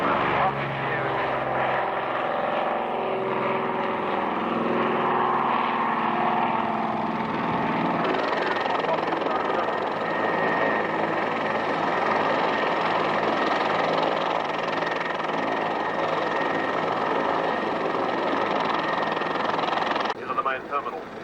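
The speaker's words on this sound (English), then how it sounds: "Caribou running down the strip now on one wheel, side wheel, now on his left wheel." A de Havilland Caribou runs along the airstrip at the 1986 Cooma airshow, its engines giving a steady, loud droning roar that holds throughout, with a commentator's voice over it.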